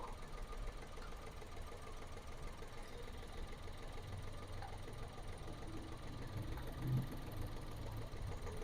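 A three-cylinder car engine with a misfire on the third cylinder idles steadily, its uneven knocking pulse running continuously at moderate level with no voices over it.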